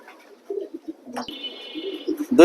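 Old-line racer pigeons in a pigeon loft give low, soft coos in short pulses, near and fairly loud, while someone speaks and a brief electronic tone sounds partway through.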